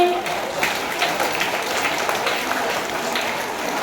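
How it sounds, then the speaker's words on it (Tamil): An audience applauds schoolgirls receiving prizes at a school prize distribution, a steady, dense wash of clapping that holds at an even level throughout. "கைத்தட்டி உற்சாகப்படுத்தலாமே."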